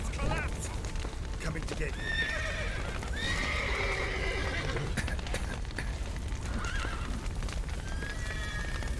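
Horses whinny and neigh repeatedly in The Witcher 3 amid a busy, noisy scene with hoof clatter and people talking over the commotion.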